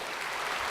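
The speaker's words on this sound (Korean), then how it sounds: "성가대 한번 박수 한번 해주세요." A church congregation applauds its choir after a hymn, a brief, steady patter of clapping filling the room at moderate volume with no talk over it.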